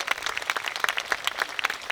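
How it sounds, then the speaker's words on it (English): Applause for opera and ballet performers from the Cleveland Opera and Cleveland Ballet Theater, a dense patter of many hands clapping steadily throughout, moderately loud and without voices. "Another round of applause, please, for our wonderful performers."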